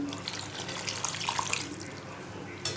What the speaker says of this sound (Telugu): కొద్దిగా వాటర్ వేసుకొని